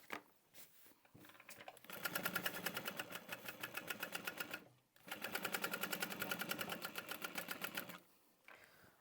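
A sewing machine bastes the lining of a book tote bag in two steady, rapid runs of stitching several seconds long, separated by a brief stop, with fainter handling before and after.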